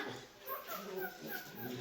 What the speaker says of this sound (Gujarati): લે આપણા જ ભસાય છે તમને ખબર આવે તો તમને જ ભસાઈ જાય